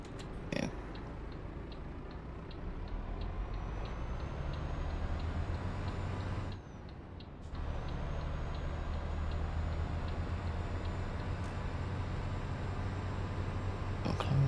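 In Euro Truck Simulator 2, the truck's turn indicator ticks in a steady, evenly spaced rhythm over a constant low engine drone, faint and clicking regularly, with a brief dip in the drone partway through.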